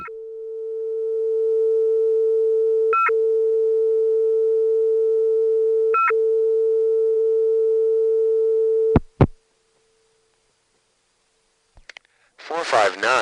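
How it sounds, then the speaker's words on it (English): A steady analog telephone line tone from an unidentified device hums continuously for about nine seconds, interrupted by brief clicks every few seconds, then cuts off with sharp clicks, silence and a short burst of line noise. "isn't it nice to be able to hear the tone with no digital fuzz, thanks to the analog connection downtown?"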